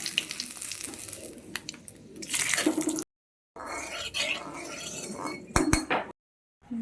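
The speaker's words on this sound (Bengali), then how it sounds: "তেলটা গরম হয়ে গেছে, এখন ফোড়ন দিয়ে লইতেছি তেজপাতা, এলাচি, দারচিনি" Bay leaf, cardamom and cinnamon hit hot oil in a kadai before meat goes in, giving a steady close crackle and sizzle broken by sharp clinks of utensils and two brief silent gaps.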